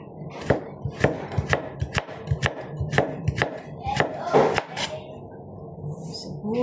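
Onion being chopped on a board while pasta with crabs and shrimp is prepared: a run of sharp, evenly spaced knife thuds, close and fairly loud, with a short pause near the end.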